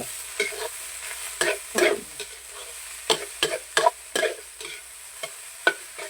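Rice and egg being stir-fried in a pan, with a spatula scraping and tossing in irregular clustered strokes over a soft sizzle, close by and fairly quiet, no talking.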